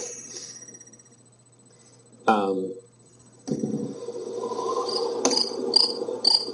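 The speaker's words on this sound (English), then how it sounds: "It's the sound of a cricket riding a tumbleweed." Crickets chirp in brief bright bursts, a faint steady trill giving way to repeated sharp chirps near the end, with louder broadband noise and a vocal-like burst partway through.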